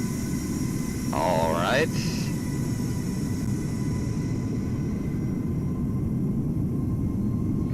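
A Boeing 737 MAX airliner idles at Amsterdam Schiphol in Microsoft Flight Simulator under cloudy skies, giving off a steady, low engine rumble. A voice speaks briefly near the start, and the drone carries on unchanged to the end.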